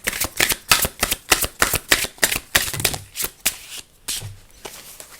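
Mercury Realms edition 2 tarot cards being shuffled by hand in a quick run of crisp riffling bursts, fairly close and steady before a short pause and a few final flicks, with no talk.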